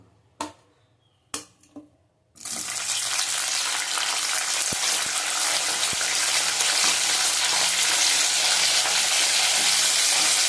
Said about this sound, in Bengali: ছিম হলুদ নুন দিয়ে মাখিয়ে রেখেছি। এই দেখো, এবার ভেজে নেবো।